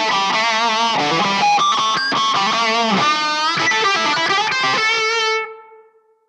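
An electric guitar plays through a Positive Grid Spark practice amp set to the Rocket V model, an orange rock tone with reverb, strummed chords and quick riffs ringing loud and close, then a final chord decays out.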